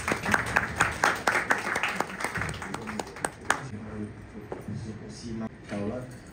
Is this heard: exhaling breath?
no